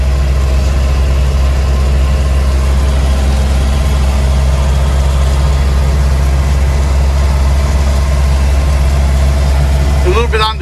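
The 2-litre engine of a Land Rover Series 1 107 station wagon drones loudly and steadily on the road, a constant low rumble that stays unbroken almost to the end.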